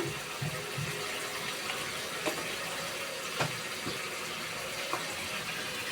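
Water splashes steadily into a pan of simmering tengra fish curry, a continuous broadband pour with a few small clinks, close and fairly quiet with no talk.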